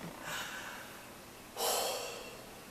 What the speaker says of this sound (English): Breathing. We all need it.